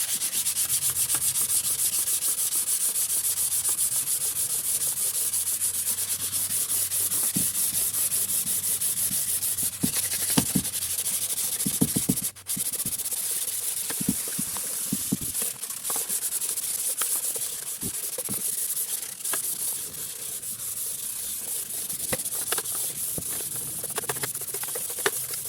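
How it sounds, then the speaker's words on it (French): A cylinder head being wet sanded by hand with 600-grit waterproof paper and a little penetrating lubricant: continuous close rhythmic rubbing and rasping strokes, steady and fairly loud, with a few sharper knocks midway, no talking. "Donc pour ça je prends du papier 600 à l'eau."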